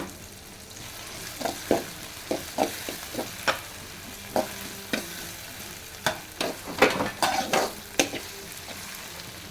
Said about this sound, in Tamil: இதையும் நல்லா வந்து வேகிற அளவு நல்லா வதக்கிக்கலாம்.